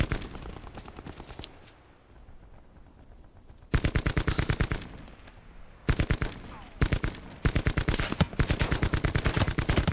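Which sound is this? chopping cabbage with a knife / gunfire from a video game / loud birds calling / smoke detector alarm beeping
gunfire from a video game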